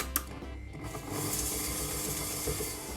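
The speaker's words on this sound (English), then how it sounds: "using a hand mixer or a stand mixer, we're going to beat this up until it's nice and creamy" Electric hand mixer beating butter and sugar, a steady whirring motor buzz with a grinding, churning texture that holds constant after a short start, close and moderately loud with no talking.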